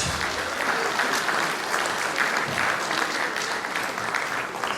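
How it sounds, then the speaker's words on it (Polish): Sustained audience applause for a Lemko folk ensemble at a cultural gathering, a dense steady wash of many hands clapping throughout, fairly loud and even with no break. "Jeszcze raz wielkie brawa."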